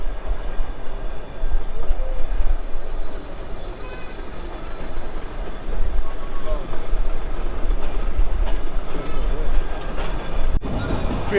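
The Ooty toy train rolls into a station with a loud, steady rumble and clatter of wheels on the rails, heard continuously from the carriage.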